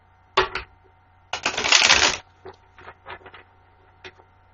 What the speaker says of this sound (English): I shuffle the cards 3 times.